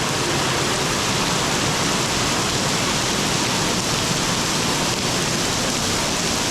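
Heavy rain pours steadily on a street in Macau in a dense, unbroken roar of hiss that stays loud and constant throughout.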